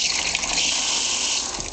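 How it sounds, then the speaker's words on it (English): Water gushing steadily from a garage spigot, a loud close hiss and splash that holds constant, then eases slightly near the end. "So we got our water spigot going in here too."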